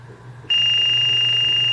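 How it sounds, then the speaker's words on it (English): An SF3 trigger training device for firearms sets off its alarm: a sharp, steady high-pitched electronic tone starts abruptly after a half-second of quiet and holds continuously until the end, close and loud. "the alarm will sound again."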